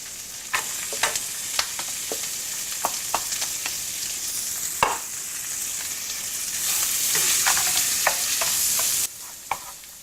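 Onion and chili fry over medium heat in a non-stick pan for Malaysian chicken pilaf, a continuous close sizzle punctuated by sharp spatula scrapes and taps as they are stirred, swelling louder near the end.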